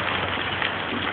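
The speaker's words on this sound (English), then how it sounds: "You gonna walk out there in the rain?" Steady rain pouring down during a thunderstorm in Apple Valley, a dense even hiss that stays loud and constant throughout, with no thunder or voices standing out.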